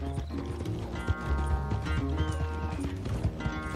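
Horse hooves clip-clop in a rapid galloping rhythm in Red Dead Redemption 2, close and clear, with an occasional whinny and mechanical clicks layered over game music.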